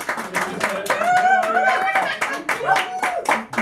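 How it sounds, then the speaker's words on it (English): An audience claps at a small live show, a loose patter of hands mixed with voices talking and a little laughter over the top. "So give yourself a little round of applause"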